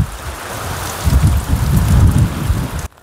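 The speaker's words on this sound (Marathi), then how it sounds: "फुल वारा पाऊस." Heavy monsoon rain and gusting wind in a Maharashtra village during Pithori Amavasya give a loud, dense roar that builds midway, then cuts off abruptly near the end.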